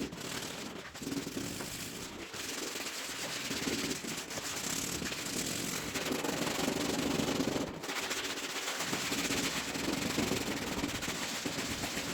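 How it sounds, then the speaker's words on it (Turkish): Steady scratchy rubbing of sandpaper on the body of a ride-on electric toy car, continuous back-and-forth strokes with a few brief breaks, fairly close and moderately quiet. "Daha sonra da zımpara işlemlerine geçeceğiz."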